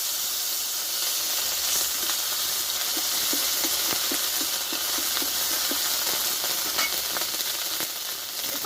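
Ginger, cumin and turmeric fry in a pan for a Bengali-style vegetarian eggplant dish, giving a steady close sizzle with intermittent scraping clicks from stirring.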